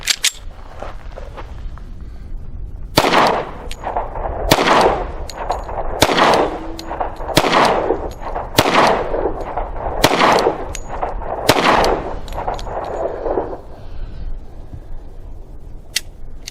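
Astra A-75 pistol firing .45 ACP rounds at a target from 7 yards, with seven loud, sharp, close reports spaced about a second and a half apart, each with a short echoing tail.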